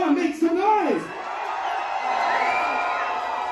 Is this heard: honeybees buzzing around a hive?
no